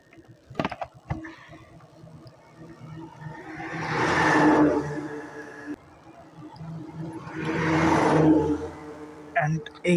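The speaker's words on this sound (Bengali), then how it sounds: "পিছন থেকে একটা ট্রাক আসছে" A truck passes by on a roadside close to a parked Apache RTR 2V motorcycle: a broad engine-and-tyre rumble swells, fades, then swells again before trailing off, with a few faint knocks and clicks nearby.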